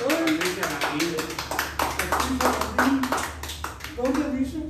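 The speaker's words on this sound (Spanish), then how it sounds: "Un aplauso grande ahí para Patricia." A small group claps by hand in a live, crowd-style setting, with steady, dense applause continuing under a voice speaking throughout.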